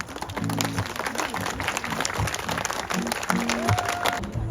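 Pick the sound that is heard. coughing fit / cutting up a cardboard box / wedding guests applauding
wedding guests applauding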